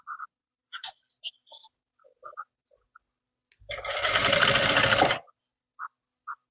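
A sewing machine stitches a lehenga in one steady, loud burst of about a second and a half, surrounded by quiet handling clicks and small taps of fabric being set in place.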